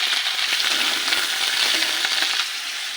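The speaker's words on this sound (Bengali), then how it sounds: "এই তেলে দিয়ে দেবো শুকনো লঙ্কা, তেজপাতা, আর দেবো জিরে ফোড়ন, দিয়ে দেবো আদা কুচি, আর দেবো চেরা কাঁচা লঙ্কা" Dried red chillies, bay leaf, cumin seeds, chopped ginger and slit green chillies sizzling in hot oil, a loud continuous crackling fry with a bright hiss that eases slightly near the end, no talking.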